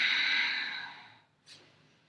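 A long, breathy exhale during a yoga flow fades out, then a short sniff follows, close and clear.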